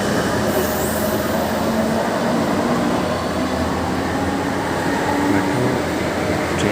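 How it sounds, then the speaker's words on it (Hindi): A metro train passes close by beside the station platform, its steady loud rumble and rail roar filling the whole stretch, with a faint wheel squeal near the start. "यहाँ पे आप देखोगे कि अब मेट्रो बगल से जाएगी"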